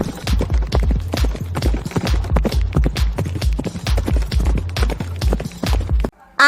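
A horse's hooves clip-clop in a steady, even rhythm, close and loud, and keep going for several seconds before cutting off at the end.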